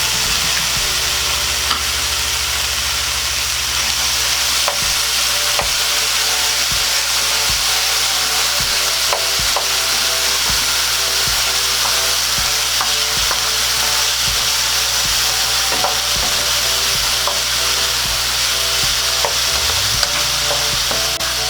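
Potatoes sauté in a hot pan, a continuous loud sizzle running throughout with regular scraping and clinking strokes as they are stirred, no voices present.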